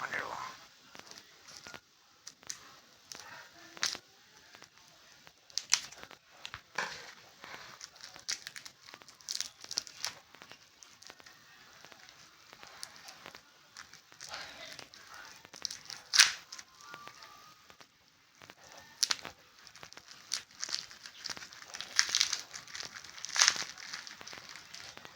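Plastic cover packaging crinkling and tearing as it is opened on a new original leather club cricket ball, close-up rustles and crackles in uneven bursts, with quiet talk in between.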